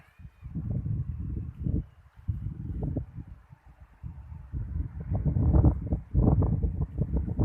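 Strong southern wind buffets a microphone outdoors while a Thai chula kite is flown, a continuous rumbling gusty roar that surges and dips throughout, loud and close.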